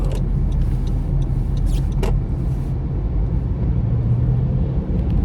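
A car drives through light winter traffic on the way to work, a steady close engine and road rumble throughout with a few brief higher sounds.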